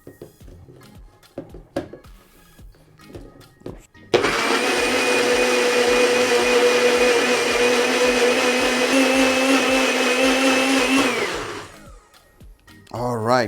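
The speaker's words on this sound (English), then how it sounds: "So we'll put it on a blender, give it a whirl." A blender whirs loudly and steadily for about seven seconds as it purees gooseberry and okra, starting and stopping abruptly, with a voice speaking briefly before and after.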